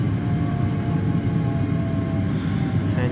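A Talent 2 electric multiple unit runs on the Dresden S-Bahn S3 line in Train Sim World 2, a loud, continuous low rumble of wheels and motors with faint whining tones above and no talk.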